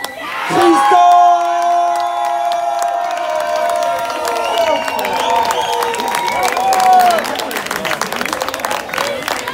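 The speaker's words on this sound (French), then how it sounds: "On peut l'applaudir s'il vous plaît pour Christophe" At a barbecue expo in a park, a crowd cheers, shouts and claps for a contest winner. A loud sustained voice opens the moment, then spirited applause mixes with whoops and chatter.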